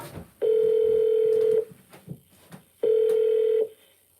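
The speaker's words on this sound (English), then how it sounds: "I'm going to dial her phone right now" A telephone call rings through on the line as two long, steady electronic tones separated by a short pause, loud and close, with faint background noise between them.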